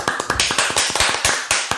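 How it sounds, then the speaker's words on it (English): A handful of people clapping together in a small room, close and loud, a sharp, somewhat uneven run of about a dozen claps in quick succession. "We're all clapping here."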